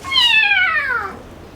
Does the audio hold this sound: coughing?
no